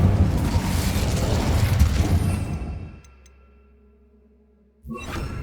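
An Incendio fire spell in Hogwarts Legacy erupts as a loud, rushing roar of flame for about three seconds, then dies to near silence before a fresh burst starts at the end.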